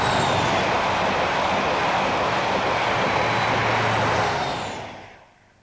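A British Rail Midland HST in new livery roars past as a loud, sustained rush of wheel and engine noise that holds steady, then fades away in the last second.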